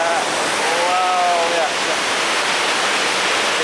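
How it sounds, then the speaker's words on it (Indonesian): Kapas Biru waterfall roaring as a steady, loud broadband rush close by, with a faint voice briefly heard over the water. "Itu adalah air terjun Kapas Biru."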